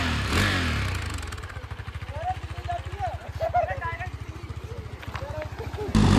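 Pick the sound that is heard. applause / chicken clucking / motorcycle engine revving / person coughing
motorcycle engine revving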